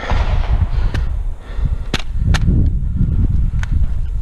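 A firearm fired during a weapon test in dirt-exposed conditions, a few sharp cracks spaced irregularly over a steady outdoor rumble, with no talk.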